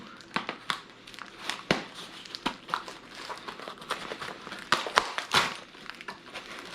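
A Ziploc plastic bag is handled and crinkled near a windshield gasket and clamps during a UTV windshield install, giving close, irregular rustles and sharp crackles in quick bursts with no talk.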